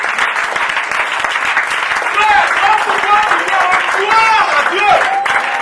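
Church congregation applauding loudly and continuously with cheering and raised voices mixed in, a full, dense crowd sound at a service of thanksgiving.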